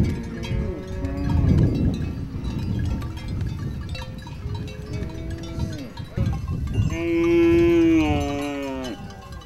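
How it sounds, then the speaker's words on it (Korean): A herd of cows and calves belonging to the Surma people in Africa lows several times, with drawn-out moos at moderate distance and a louder, closer call near the end over a background of herd noise. "어린 송아지들은 어미소와 떨어져 캠프에 남겨진다."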